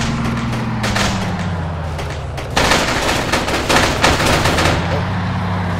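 Rapid automatic gunfire in the ARMA 3 military shooter, in the Gulf, with dense bursts of shots building to a louder, busier volley in the second half over a steady low engine drone.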